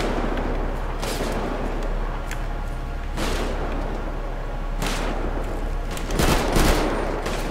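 Shotgun blasts ring out in a GTA 5 zombie mod, a few heavy booming bursts spaced irregularly over a constant loud background din, with no talking.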